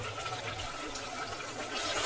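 Water poured into a pan of achar gosht gravy, a steady close splashing and trickling that runs unbroken for about two seconds with no talk over it.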